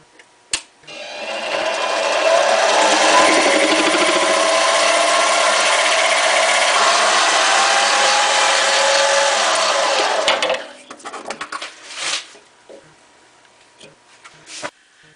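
A metal lathe spins up and turns a fountain pen blank down to half an inch, a loud steady whir that runs for several seconds and then stops, followed by a few clicks and clatter.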